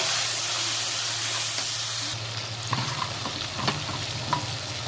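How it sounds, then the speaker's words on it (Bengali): Chopped tomatoes hit hot oil with whole cumin and asafoetida, giving a loud, continuous hissing sizzle at first that settles into softer frying broken by scraping stir strokes and light clicks. "টমেটোটা ভাজা হচ্ছে"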